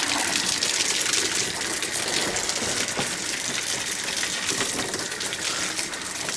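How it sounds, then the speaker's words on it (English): Water gushing steadily into an RV water filter cartridge during flushing, a loud continuous rushing hiss with no pauses, close up and alone. "You'll see water will begin to fill this cartridge"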